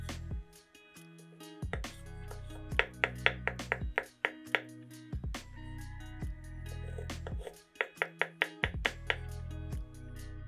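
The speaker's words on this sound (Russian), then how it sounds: "Три вареных яйца нарезаем кубиками." Knife dicing three boiled eggs on a cutting board, with short bursts of rapid taps separated by pauses, close and clear, over quiet background music.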